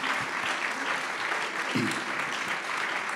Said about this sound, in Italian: gli farei un applauso veramente per il lavoro